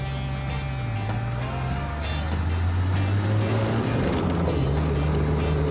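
A 1966 VW Beetle (Fusca) roadster's air-cooled engine runs steadily while driving, a loud continuous low drone with shifting pitch as it changes speed, with no talk over it.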